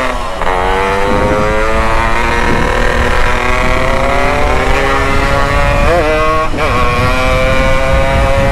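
A motorcycle fitted with an underbody exhaust revs hard during a street race, loud and close, its engine note rising and falling repeatedly with sharp gear-change dips and no talk over it.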